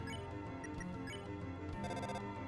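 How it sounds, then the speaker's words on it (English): A cell phone ringing in the Deltarune video game, heard as a quiet electronic tone pattern with repeating beeps over a faint musical, noisy background. "Try to make a call on the cell phone."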